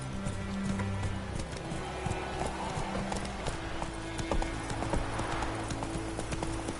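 The horse Roach gallops in The Witcher 3, a rapid, steady clip-clop of hooves close by, continuous across the stretch with only faint voice traces.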